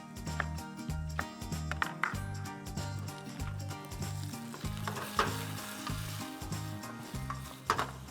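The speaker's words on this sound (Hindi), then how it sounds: "अब इसके अंदर हम डालेंगे अनियंस, बेल पेपर्स" Onions and bell peppers frying in a pan, heard close as a loud, steady sizzle broken by clattering stirring strokes, with no one speaking.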